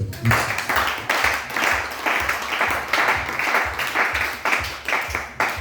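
Loud, sustained applause from a church congregation, many hands clapping in a dense wash with rhythmic pulses and faint voices underneath.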